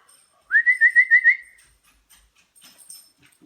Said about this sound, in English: you just whistled for him.